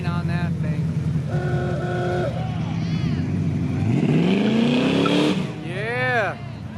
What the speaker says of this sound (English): The cops will arrest people that do burnouts in this line, so the fact that they're doing them for us is awesome.